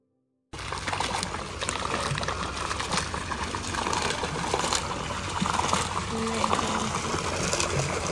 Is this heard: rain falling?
yes